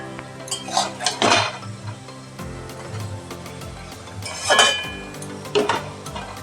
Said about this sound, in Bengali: আর 10 মিনিটের মতন কিন্তু আমি একটু ঢেকে রেখে দিচ্ছি